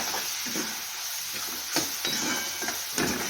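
Crushed garlic and grated ginger sizzle steadily in hot oil with onion in a pan, while a spoon scrapes and knocks against the pan in several stirring strokes, close up and without talk.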